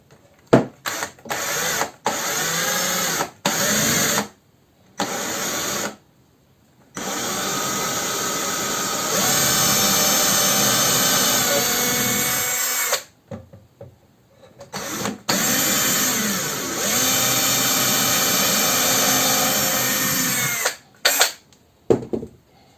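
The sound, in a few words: power drill boring holes in wood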